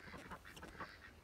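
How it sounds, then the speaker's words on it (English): Ducks on a smallholding quack repeatedly in short, irregular bursts, several birds calling near the microphone at a faint overall level. "we're having a little duck convention"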